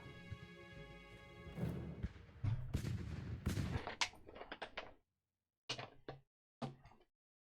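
Musket volleys and artillery in Ultimate General: American Revolution, a Revolutionary War battle game: ragged crackling gunfire builds into rolling bursts and booms, then stops, followed by a few isolated sharp shots.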